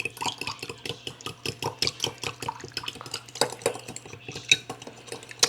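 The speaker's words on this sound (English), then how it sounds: "it says whisk together. I don't know what happened to my little whisk. We're just going to use this fork." A metal fork whisks ingredients together in a bowl, a quick, steady run of light clinking taps against the dish, close and clear with no talk.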